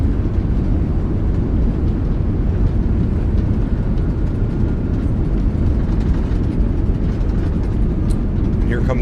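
Airbus A380X in Microsoft Flight Simulator during landing rollout with thrust reversers deployed on a Singapore operation; a loud, steady low roar of engine and runway rumble fills the whole stretch without letup.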